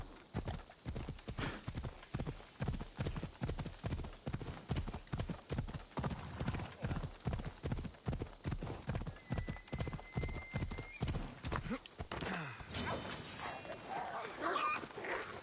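Horse hooves galloping in Assassin's Creed Odyssey, a fast, steady clip-clop rhythm close up for most of the stretch before slowing near the end, with a faint whinny and game ambience underneath.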